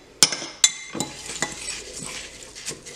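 Crushed Ritz crackers being tossed with melted butter in a bowl for a pineapple casserole topping, heard as a series of sharp utensil clinks and scrapes against the dish, close and irregular, with no talking.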